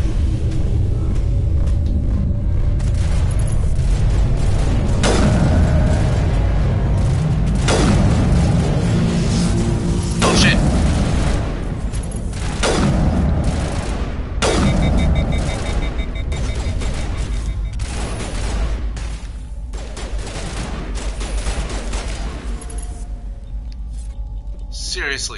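Gunfire aimed at the player in the video game Mass Effect: heavy booming shots and rumbling bursts at irregular intervals over a steady low drone, with a player talking over them.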